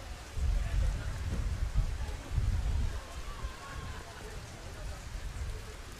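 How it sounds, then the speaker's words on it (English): Heavy rain pouring down during an outdoor team event in Denmark, a dense steady hiss with a low rumble that swells briefly early on. "The rain is just in an absolute downpour right now."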